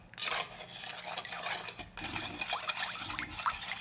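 Spoon scraping and clinking in a pot while galbi-jjim ingredients for braised beef short ribs are stirred together, a busy run of wet clatter and knocks heard up close, with no talking.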